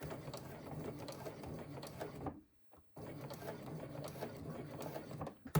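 A sewing machine stitches a crossbody bag strap, running steadily and close by, stopping briefly partway through, then resuming while someone talks over it.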